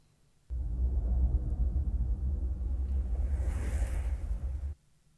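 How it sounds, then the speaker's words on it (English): Thunder rolls in the video game Pacific Drive, a deep, loud rumble that kicks in abruptly, sustains for about four seconds with a faint airy wash near the end, then cuts off sharply into near silence. "if you hear any thunder"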